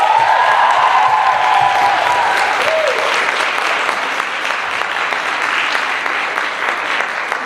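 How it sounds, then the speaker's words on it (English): Sustained, dense applause from an audience at an evening performance event celebrating Wellesley's South Asian community, loud and steady throughout without voices over it. "Please give her a quick round of applause."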